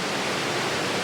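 Fast water rushes over river rapids on the North Yorkshire Moors, a dense, constant hiss and roar heard close with no other sounds.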